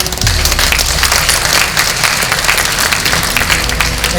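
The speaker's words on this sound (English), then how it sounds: "May I request again to big rounds of applause for our 2 former presidents." An award-ceremony audience claps loudly and continuously for two former presidents of the British curry industry, a dense, sustained roar of applause from a large indoor crowd with no speech over it.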